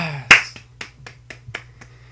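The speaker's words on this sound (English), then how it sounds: "Hopefully the clap wasn't too loud." One sharp, loud clap of the hands, followed by a series of lighter, evenly spaced snaps or taps that fade out. A low electrical hum runs underneath throughout.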